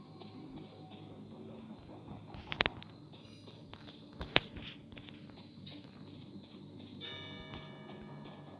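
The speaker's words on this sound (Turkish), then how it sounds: "Evet saat sesi arkadaşlar." A clock ticks steadily inside the Identity V horror game, faint and continuous beneath game ambience, with a few sharper clicks and bell-like chimes cutting through.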